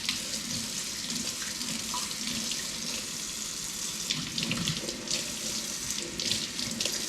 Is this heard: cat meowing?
no